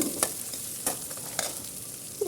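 Onion drops into a hot tempering of oil and spices in a pan, giving a steady sizzle broken by a few sharp crackling pops and the scrape of stirring, with no voices.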